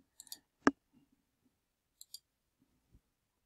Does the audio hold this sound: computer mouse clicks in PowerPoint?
yes